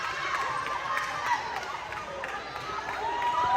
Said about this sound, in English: They go out to their fan base now, and the crowd celebrates with them.